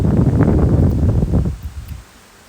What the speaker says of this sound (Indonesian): padahal ini hanyalah kipas angin loh